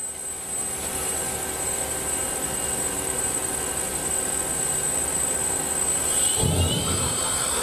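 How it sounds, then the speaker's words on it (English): The back main drills on a CNC lathe spin up, a constant loud mechanical whine with steady tonal hum, joined near the end by a brief thump and rising whir. "Now we're going to go to the main drills on the back."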